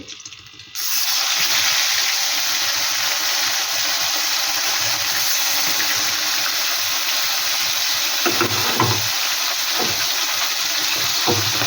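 Bhola fish frying in hot oil, a steady loud sizzle that starts abruptly after a brief quiet moment and continues throughout with occasional louder crackles and spits.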